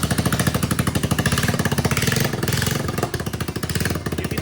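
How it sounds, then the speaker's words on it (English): Motorcycle idling with an exhaust leak at the header bolts, a loud, close, rapid ticking chuff pulsing evenly over the engine's steady idle rumble. "That's exhaust escaping through the leak right there."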